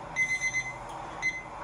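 An alarm clock rings with a bright, repeating electronic beep, pulsing in short bursts, pausing briefly, then sounding again, loud and close with no talking over it.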